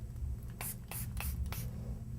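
Bottle of body spray perfume spritzed in several quick hissing bursts, about four short sprays in a row, close over a low hum.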